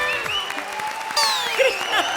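A studio audience at a comedy show claps in a short burst, with bright musical or sweeping effects running over the applause.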